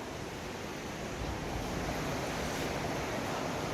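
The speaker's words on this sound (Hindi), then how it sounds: "पानी बह रहा है" Snowmelt stream water rushes continuously near Solang Valley, Manali, in December, a dense, steady wash of sound with a touch of wind, close and unbroken, with no talking.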